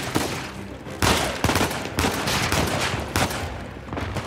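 Rapid gunfire during a firefight in Uncharted 4, set in an auction house, with several loud bursts and shots in close succession at an uneven rhythm and no talking.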